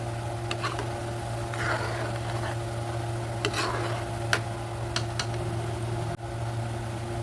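Garlic fries in oil for chilli garlic oil while a utensil stirs it, giving soft scrapes and a few sharp taps over a steady low hum and a faint sizzle.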